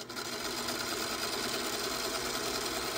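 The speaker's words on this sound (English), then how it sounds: "I just sew right on the line, all the way to the point, just exactly on the line." A sewing machine stitches steadily along a marked line on a quilt block, giving a continuous, even mechanical whir that stays close and loud throughout with no pauses.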